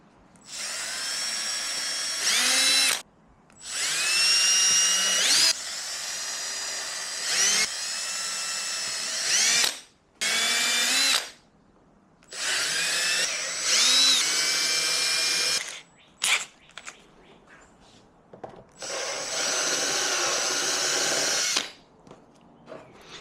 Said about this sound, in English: We'll just use this reamer bit to get there.